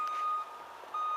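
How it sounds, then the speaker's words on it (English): A loader backing up sounds its reversing alarm, a steady electronic tone that holds, briefly drops and then resumes, fairly close and heard alone without speech. "won't really be able to hear me now with that beeping noises"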